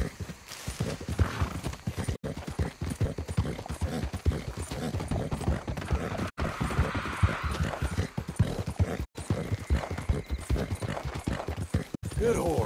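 Steady clip-clopping of a horse's hooves from Red Dead Redemption 2 continues for several seconds, close and rhythmic, with a brief neigh and spoken voices over the hoofbeats.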